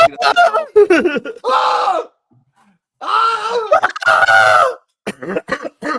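A person imitates a scream with loud, drawn-out vocal shrieks in several bursts, broken by short gaps, close to the microphone.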